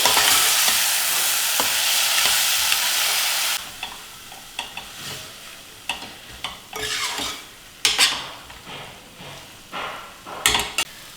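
Spinach pulao rice is stirred in a pot. A steady sizzle runs at first, then gives way to a string of scraping, clinking stirs against the metal, close by, with no talk.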